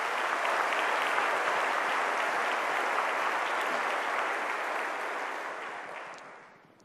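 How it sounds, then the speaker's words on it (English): A large crowd at a summer graduation ceremony applauds in a dense, even wash of clapping that holds steady and then fades away near the end. "So can we please have a round of applause for them as well?"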